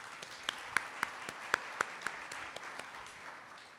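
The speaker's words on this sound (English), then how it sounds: "Can we give him a round of applause, please?" An audience applauds at an architecture and building exhibition opening ceremony, a thin scatter of separate claps over a steady background hum, fairly faint and distant, with no talk over it.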